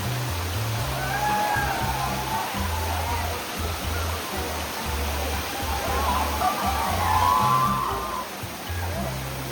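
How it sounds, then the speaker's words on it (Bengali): Katiki waterfall roaring as a steady, loud wash of rushing water close by, with voices talking faintly underneath. "এই কাতিকা ওয়াটারফলটা এমনি ভালো"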